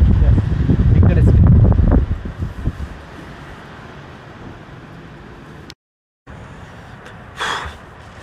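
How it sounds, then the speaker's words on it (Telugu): A strong storm wind buffets a camping tent at night in a tsunami-prone area in Korea, with loud gusts and flapping at first, then a lower steady roar. "టెంట్ మొత్తం కూడా ఇట్లా మొత్తం కొట్టుకోబోతున్నట్టు, ఊగుతున్నట్టు మొత్తం గాలి అయితే వస్తుంది."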